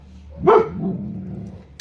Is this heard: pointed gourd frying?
no